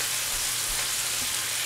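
Steady, close sizzling of pancake batter frying on a hot griddle, a soft continuous crackle with no voices.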